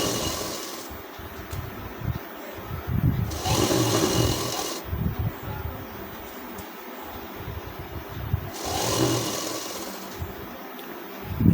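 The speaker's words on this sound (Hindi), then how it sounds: "टाँकी बांध के सिलाई चलाएंगे आधा इंच का दबाव लेकर।" A sewing machine stitches the hem of an elastic trouser, running in two close bursts of rapid whirring several seconds long, with quieter handling noise and pauses around them.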